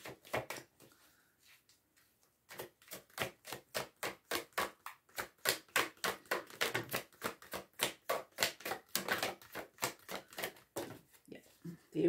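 Tarot cards are shuffled by hand in a long run of quick, soft rhythmic riffles and taps, close and fairly quiet, with a brief pause before the flurry begins.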